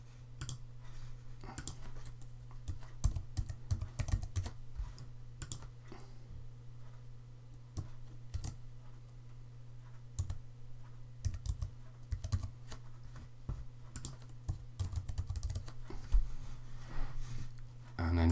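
Close keyboard typing while entering quiz answers on a computer, with bursts of quick, light key clicks at an irregular pace and faint steady background hum, no talk.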